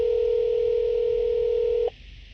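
A steady telephone dial tone, loud and close, holds for nearly two seconds and then cuts off abruptly, leaving quiet line hiss.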